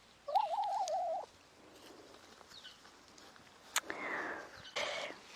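Hens pecking at vetch in a garden give a quiet warbling cluck-like call early on, followed by faint scattered pecks and rustles, soft and close with no talking.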